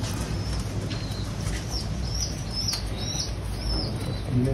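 A released pigeon flaps its wings close by in bursts over steady background hum, with a few faint chirps overhead.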